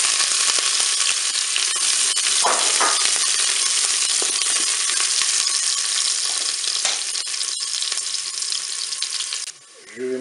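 Onions frying in the preheated bowl of a Cookeo multicooker, a steady loud broadband sizzle with a few faint clinks, dropping away abruptly just before the end.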